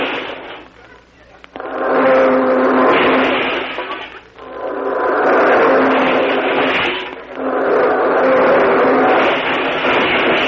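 A car engine revs and roars off in a radio comedy sound effect, several loud swelling bursts with brief pauses between them.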